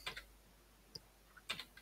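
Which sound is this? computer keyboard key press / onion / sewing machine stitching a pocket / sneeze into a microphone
computer keyboard key press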